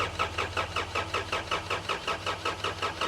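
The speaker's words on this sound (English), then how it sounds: "then I'm gonna pump it up again, and then I'll crack some injectors and crank it" A car engine with its injectors cracked open cranks over on the starter in a steady rhythmic whir-chug, about fifteen even pulses in quick succession, loud and close with no voices.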